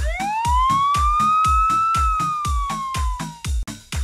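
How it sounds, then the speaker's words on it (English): Police car siren with a slow rising and falling wail over a pulsing rhythmic beat, loud and near, with no talking. "police car"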